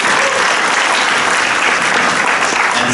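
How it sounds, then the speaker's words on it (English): A full audience applauds at a technical presentation in Singapore, sustained loud clapping that fills the whole few seconds without pause. "Give a big applause for BCMY."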